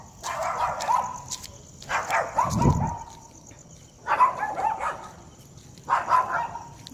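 A dog barks in a few short bursts, repeating every couple of seconds, fairly close, with a low thump and some rustling between.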